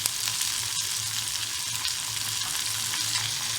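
Okra (lady's fingers) seasoned with chili, salt and turmeric sizzles steadily in a pan over low heat, a continuous close crackle of frying with faint stirring scrapes throughout.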